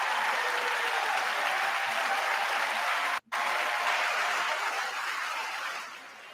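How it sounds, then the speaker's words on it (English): A large audience at the State of the Union address applauds in a dense, steady roar of clapping that drops out for an instant, then resumes and gradually fades toward the end. "They're clapping and they're happy."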